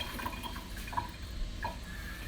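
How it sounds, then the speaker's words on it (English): Water rinsing a tie-dyed shirt, with soft drips and splashes over a steady running trickle, close and quiet. "So we're gonna rinse this one and see what it turned out."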